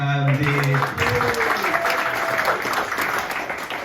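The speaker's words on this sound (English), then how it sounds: "round of applause for your host" Audience applause and cheering at a stand-up comedy variety show greeting the host, loud and sustained clapping with a brief musical tone at the start and a voice over the top early on.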